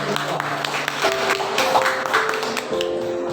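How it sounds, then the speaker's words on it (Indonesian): Students at a high school student council candidate debate in Amlapura applaud candidate pair number 2, a steady patter of clapping over the room's hum, with steady tones sounding beneath it. "Berikan tepuk tangan sekali lagi untuk paslon nomor"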